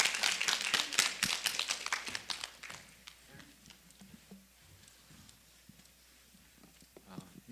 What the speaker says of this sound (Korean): 박수 좀 치셔서 전도사님 나오실 때 안 힘드시게 했으면 좋겠습니다